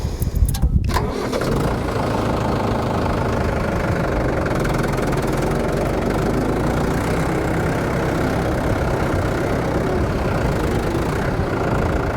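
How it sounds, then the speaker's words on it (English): A diesel tractor engine cranks and catches, then settles into a loud, steady rumbling idle that continues throughout. "Now, I don't normally turn the tractor off and on."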